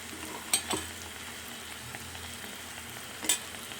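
Fenugreek and mustard powder are stirred into a rice mixture frying in a pan, giving a faint, steady sizzle with two sharp clinks of the spoon scraping the pan.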